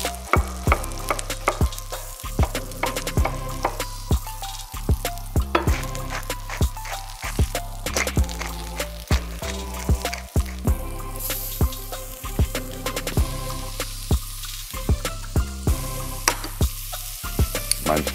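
Steady sizzling of mushrooms frying in olive oil and butter in a pan, with repeated scraping and stirring clatter throughout, close and fairly loud, no talking.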